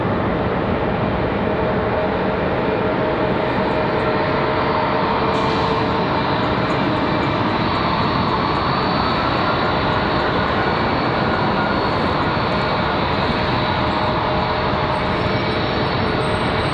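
An Embraer ERJ regional jet taxiing in to the gate at Charlotte Douglas International Airport, its engines producing a steady, loud whine and rumble throughout with no talk.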